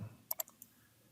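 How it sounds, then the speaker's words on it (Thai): A computer mouse gives a quick right-click: two sharp, close clicks in rapid succession, then a fainter third tick in a quiet room. "คลิกเมาส์ขวานะครับเลือก paste เพื่อวาง"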